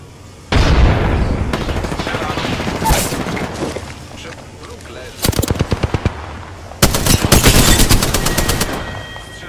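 Gunfire in the Apex Legends video game: loud, close bursts of rapid automatic fire with booming shots, broken by short pauses and heavier sustained volleys toward the end.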